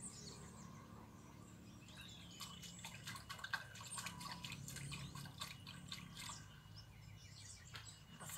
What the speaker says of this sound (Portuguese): tem um buraquinho aqui que sai a água fora